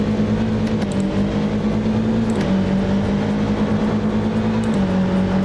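A car fitted with a stage 4 turbo accelerates hard in BeamNG, a loud, steady engine drone that holds its pitch and then steps through quick gear shifts, alone without voices.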